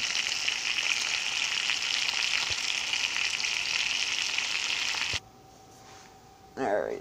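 Hamburger patties frying in grease, a bright continuous sizzle for several seconds that then cuts off abruptly into a low hum, followed by a short burst of talking.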